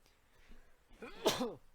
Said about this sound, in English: Had to sneeze real quick.